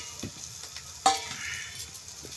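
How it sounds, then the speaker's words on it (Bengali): Egg chowmein with vegetables being stirred and fried in a pan: a soft, continuous sizzle with scraping stir sounds and one sharp utensil clink partway through. "এগুলো ভালো করে মিশিয়ে নিই"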